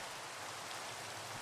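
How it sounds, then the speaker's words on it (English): Steady rainfall in the Minecraft video game, a soft, even hiss of falling rain with no other sounds, quiet and unchanging. "it's raining, it's pouring"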